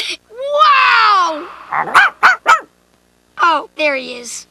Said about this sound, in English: Oh, you stupid dog. How'd you get up here?